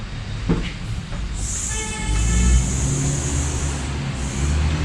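An electric line-winding machine in a fishing tackle shop spools nylon fishing line onto a reel: a steady close motor whir, joined after about a second and a half by a thin sustained whine that holds to the end.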